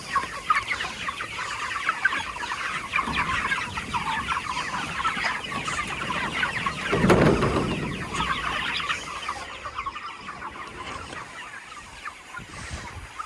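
Around five hundred chickens cluck and chatter together in a mobile roller pen, a dense continuous murmur of many birds close by, steady throughout with a brief louder swell midway and no talking.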